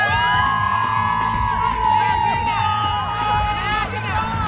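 A large crowd at an arena worship event shouts, whoops and cheers with joy, a loud continuous roar of many voices with high rising yells layered throughout, sustained without a break.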